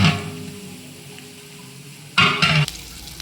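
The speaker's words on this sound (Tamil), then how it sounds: "அதனால நம்ம வந்து உடனே போட்டதுக்கப்புறம் கொஞ்சம் நேரம் நல்லா வதக்குவோம்." Yogurt and masala sauté in hot oil for mutton biryani, a steady close sizzle with a sudden louder surge of frying near the end. No one speaks.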